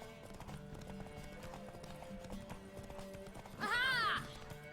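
Galloping horse racing in The Witcher 3, its steady clip-clop hoofbeats running under a game music bed, then a loud, close neigh rising and falling near the end.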